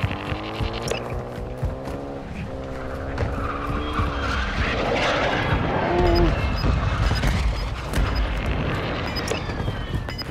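A video game vehicle drives past with a revving engine and tire squeal, swelling to a loud rushing pass midway, with scattered shots and voices in the background.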